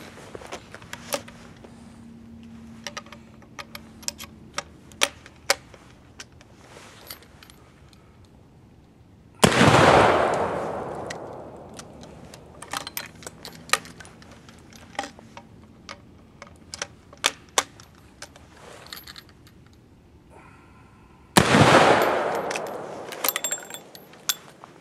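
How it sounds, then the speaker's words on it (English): An 1873 Trapdoor Springfield rifle fires two loud, echoing shots about twelve seconds apart. Metallic clicks and clacks from handling and working the breech fill the quieter stretches between and before the shots. "So I'm going to fire off three rounds,"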